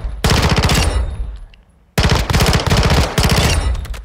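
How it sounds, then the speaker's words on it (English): A 5.7x28 weapon in Call of Duty Modern Warfare II fires rapid automatic bursts, a long loud stream of shots, a brief pause with trailing echo, then two more fast bursts, close and dominant with no speech. "if you're bursting that like 3-4 round bursts at those longer ranges, it'll be really, really effective"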